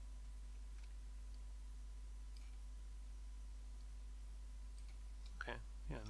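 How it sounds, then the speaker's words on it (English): Sparse, faint computer mouse clicks from someone beveling edges in 3D modeling software during an animation class, set against a steady electrical hum, with a brief voice near the end. "Shift right mouse click, bevel."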